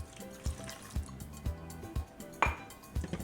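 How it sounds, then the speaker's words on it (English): Whisk clinking steadily against a bowl while milk is beaten into a meatball mixture, a regular rhythm of bright metallic taps about twice a second, close and moderately loud with no talking. "you can continue to use a whisk and just make sure it's nice and even"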